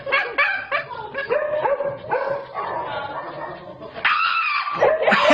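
A Shiba Inu lets out a series of shrill, yelping screams, close and loud in rapid bursts, with a sustained higher wail toward the end.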